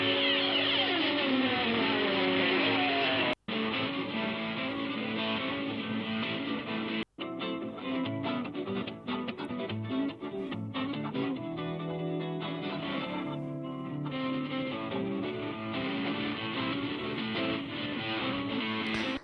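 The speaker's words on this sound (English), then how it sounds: "And then we have the guitar track," Two AI-separated guitars from a 2008 concert in Mexico play continuously for about twenty seconds, loud and dense, with smeared artifacts and brief dropouts near three and seven seconds.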